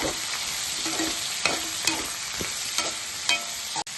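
Chopped onions and tomatoes fry in butter for butter chicken, a steady close sizzle with a few sharp scrapes and stirs of a spoon in the pan.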